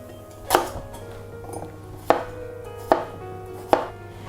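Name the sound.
peeling and chopping potatoes and carrot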